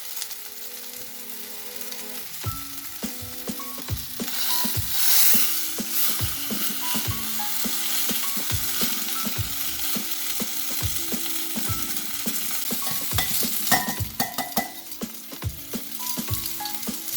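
Salmon searing in a hot pan for Vietnamese caramelized fish, a continuous crackling sizzle close by, with a run of rhythmic clicking and scraping against the pan through most of it, no speech.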